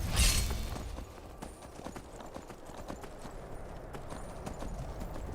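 Horse hooves clip-clop steadily while riding in the video game Skyrim, a close rhythmic patter of hoofbeats over a low background with no talk.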